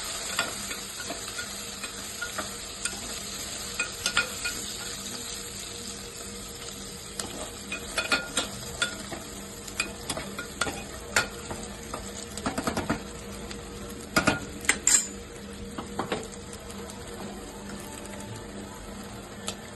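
Dried prawns frying and being stirred in a pan, a quiet steady sizzle overlaid with scattered clicks and scrapes from the stirring utensil against the pan, with no talk.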